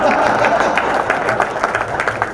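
A live audience at a Hindi comedy show claps in a dense, steady burst, with crowd noise blending in and no clear voice above the applause.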